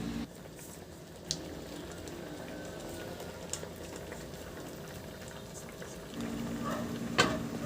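A pot of Filipino vegetable soup with dried shrimp (alamang) simmers and bubbles steadily while being stirred, with a low, continuous boiling hiss and a few faint clinks of the spoon against the pot.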